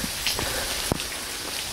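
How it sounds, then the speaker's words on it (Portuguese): Heavy rain falls on a dirt road, a steady close broadband hiss with a faint clicking drop or impact near the middle and no voices. "Tá chovendo aqui, tá?"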